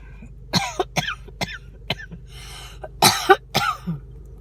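A person coughs and clears their throat repeatedly, about eight short, sharp bursts in an irregular rhythm, close and fairly loud in a quiet room.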